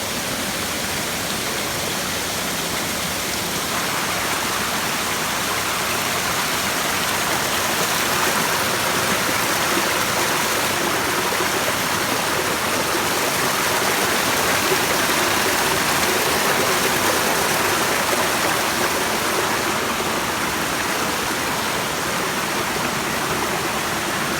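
A hidden forest waterfall near Chiveli in the Konkan roars in a dense, unbroken rush of falling water, loud and close throughout with no voices.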